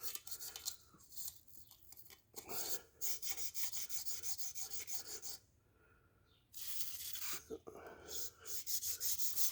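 A brush scrubs rust off a Chevy 283 engine in quick, rough, raspy strokes, the bursts close and fairly steady, with a brief pause in the middle before the scrubbing resumes.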